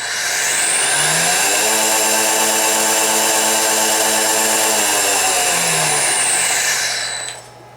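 A three-phase AC motor driven by a variable drive winds up over about a second to a loud, steady high whine with layered tones, holds for several seconds, then ramps back down and falls quiet.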